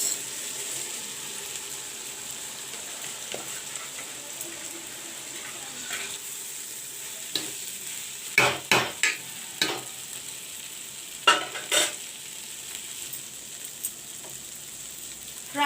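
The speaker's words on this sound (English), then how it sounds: "Fry the rice well." Rice stir-fried in a pan with soya beans and fried tomatoes, a steady soft sizzle running throughout with a cluster of louder scraping stirs near the middle and a few more toward the end.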